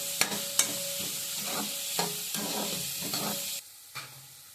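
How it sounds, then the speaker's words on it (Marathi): Chopped onion fries in a pan over high heat for egg bhurji, a steady broad sizzle with several sharp scraping stirs of the spatula, close and fairly loud, until the sizzle drops away near the end. "आत्ता हा कांदा आपल्याला फ्राय करायचा आहे"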